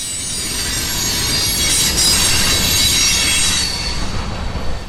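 A long freight train of boxcars, gravel-loaded hoppers and center-beam flatcars rolls past close by, a loud steady rumble of wheels on rail with high metallic squealing throughout.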